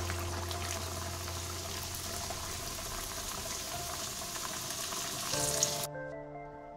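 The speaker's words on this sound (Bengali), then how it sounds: "এবার সপ্তপুরি পিঠাটা ভেজে নেব।" Saptapuri pitha fries in warm oil over a low flame, producing a soft, steady sizzle and bubbling that runs unbroken before stopping abruptly.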